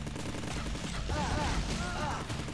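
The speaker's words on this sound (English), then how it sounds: "Now this plasma beam works like this." Plasma beam weapon firing in the Robowars video game, a dense barrage of crackling shots with sweeping electronic zaps layered over constant game noise.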